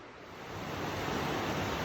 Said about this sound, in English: You can see the river's right down there.